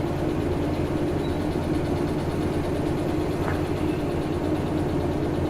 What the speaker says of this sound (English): Train don't sound too healthy no more, though.